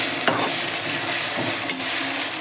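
Ginger garlic paste frying with onions in a pan for methi mutton fry, giving a loud, steady sizzle with occasional stirring scrapes and no talk.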